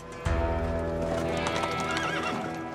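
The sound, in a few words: horses clip-clopping and neighing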